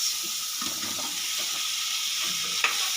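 Pieces of fried boal fish stirred in a pan of hot oil with spices and chopped coriander for a spicy Bengali curry: a steady loud sizzle with soft scraping stir strokes and a sharper clink near the end.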